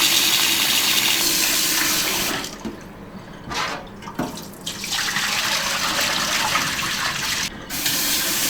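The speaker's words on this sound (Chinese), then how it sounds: "我们把排骨清洗一遍哈" Pork ribs are rinsed under a running kitchen tap, making a continuous close gush of water that briefly dips and changes as the flow is interrupted, then resumes.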